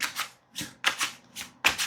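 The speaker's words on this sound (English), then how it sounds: "I'm shuffling a Magic the Gathering card for y'all" Magic the Gathering cards being shuffled by hand, close and crisp, in a rhythmic series of riffling bursts with brief pauses between them.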